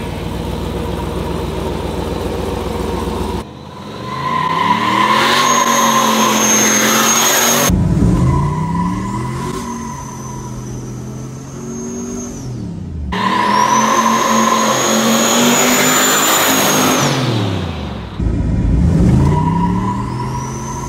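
Turbocharged GMC single cab truck accelerating hard from a launch with no brakes, engine climbing in loud repeated surges through gear changes, with tire squeal and a high turbo whine over the roar.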